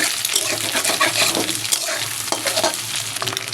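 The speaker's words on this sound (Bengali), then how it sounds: "ডিমগুলো আমার ভাজা হয়ে গেছে, এগুলো আমি উঠে নেব।" Eggs fry in a pan with a loud, crackling sizzle close up, broken by quick stirring and scraping sounds throughout the short stretch, no speech.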